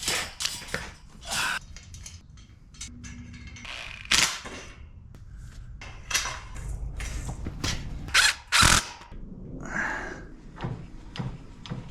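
Hand crank turning a bracket mechanism on skid steer bucket teeth, close metallic clicks, ratcheting and clanks in irregular bursts, fairly loud, with no talking.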